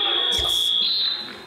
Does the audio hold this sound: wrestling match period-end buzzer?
yes